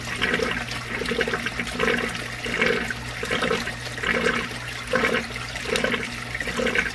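Water pours steadily into a DIY bucket pond filter for a guppy pond, a loud continuous gushing flow with rhythmic surging splashes, close up and with no talking.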